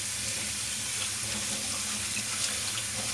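Rice grains being rinsed by hand in a bowl under a steadily running kitchen tap, for a chicken and chickpea rice pilaf; continuous close water splashing and flowing throughout, no voices.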